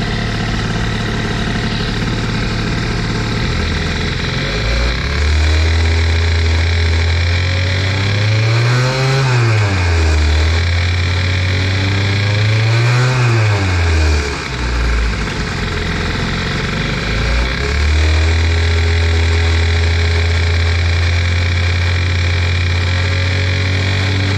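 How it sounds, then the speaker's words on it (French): Doppler LC moped with a boosted engine, aftermarket exhaust and T6 setup, running loud and close, its note rising and falling through two rev surges toward about 6000 rpm before settling back to a steady high drone. "Vers 6000 tours, ça, la voie de la mob s'éclaircit"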